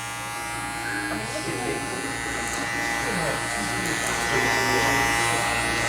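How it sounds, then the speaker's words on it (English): Electric hair clippers buzz steadily at close range throughout a clipper-over-comb cut on the top of a client's head during a shadow fade, with faint background sounds. "I'm gonna cut a little bit from the top, right here, a little clipper over comb."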